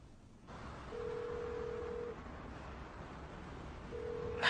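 A telephone line rings out in a steady low electronic tone, sounding twice with a long pause between, over a constant background hiss.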